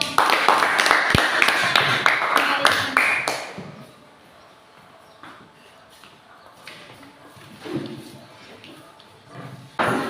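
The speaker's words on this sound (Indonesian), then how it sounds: "Kita berikan tepuk tangan" A classroom of pupils claps hard and fast for a few seconds, loud and close, then the applause dies away into quieter room noise with scattered taps and movement.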